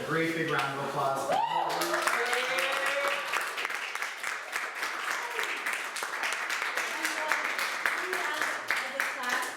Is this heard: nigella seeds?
no